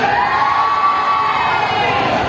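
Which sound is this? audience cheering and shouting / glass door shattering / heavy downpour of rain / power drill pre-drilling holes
audience cheering and shouting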